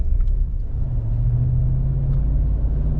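A 2008 Hummer H2 with a 6.2 V8 gets underway, giving a steady low engine rumble and road drone that stays constant and close throughout with no talk.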